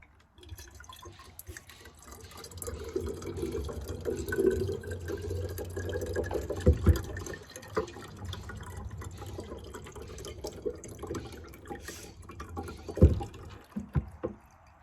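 Juice draining out of a freshly opened coconut, a steady watery trickle and splash that runs continuously for most of the span, with a few sharper knocks and taps near the end.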